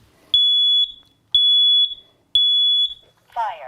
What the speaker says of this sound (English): when that smoke alarm goes off